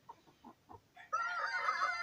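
A young rooster crows loudly and close in a long, strained call, preceded by a few soft, spaced clucks from chickens nearby.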